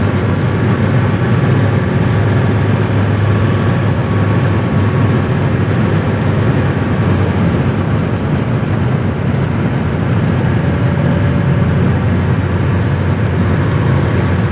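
A 1985 Mercedes-Benz W123 300D turbo diesel car driving along, with a steady, loud, unbroken rumble of engine and road noise running the whole time and no voices.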